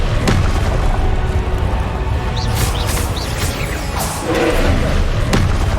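Confringo blasting spells exploding in Hogwarts Legacy during a fight, repeated booming thuds and bursts over a dense rumbling game soundscape, loud and close.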